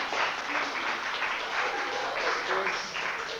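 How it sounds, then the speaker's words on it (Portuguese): Applause from the attendees of a 1997 dubbing course in Rio de Janeiro, a steady, dense wash of clapping that holds evenly for a few seconds at moderate distance. "É um bom momento para o aplauso"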